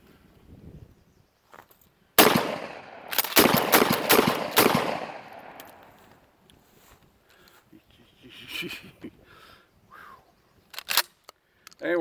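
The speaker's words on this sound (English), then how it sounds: "the old Ithica 37 is a lot of fun to shoot." An old used Ithaca 37 riot shotgun fires several loud, sharp blasts in quick succession, each with a booming echo, followed by scattered quieter mechanical clacks and a final shot.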